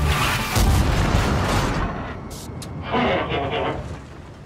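Tank cannons in World of Tanks fire in quick cyclic succession, heavy booms rolling over a dense game soundtrack, with a second burst arriving near the end.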